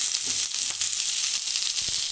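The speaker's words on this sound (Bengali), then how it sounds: "এগুলোকে একটু লাল লাল করে ভেজে নেব 2-3 মিনিটের জন্যে" Eggplant, potato and flat beans fry in a pan for a few minutes until browned, giving a steady, close sizzle with faint stirring clinks.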